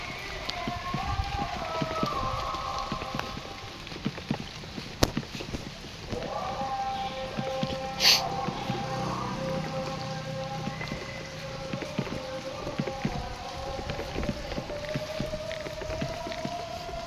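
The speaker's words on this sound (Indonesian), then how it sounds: "Dan hujannya juga baru hujan gerimis sih." Light drizzle falling on an outdoor chili field, a soft steady patter of rain with scattered drops, faint and continuous throughout, with a few brief background noises and no talk.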